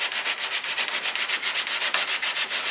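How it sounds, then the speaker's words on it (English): Close, rhythmic hand sanding on the metal hood lip of a 1934 Ford coupe, with about a dozen quick back-and-forth scraping strokes in a steady rasping beat and no talking. "So we go ahead and sand that down."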